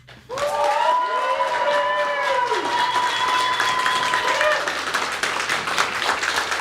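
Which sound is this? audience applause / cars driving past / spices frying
audience applause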